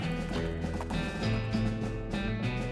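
Horse in the video game West of Loathing: rhythmic hoof clip-clops over a steady tonal game music bed, moderately close, continuous for a few seconds.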